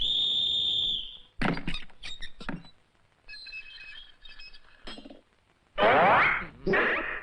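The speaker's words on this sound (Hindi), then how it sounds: "मेरे बाप ने सीटी बजा दी है।" A loud, steady whistle blast from a Hindi action film opens the scene, followed by clattering impacts and thin ringing tones, then further bursts of noise.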